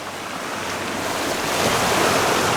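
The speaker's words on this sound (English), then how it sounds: "the waves are coming right in now" Ocean waves surge onto the shore at Mousehole, a continuous loud roar of surf and washing water that swells toward the end, with wind buffeting alongside and no voices.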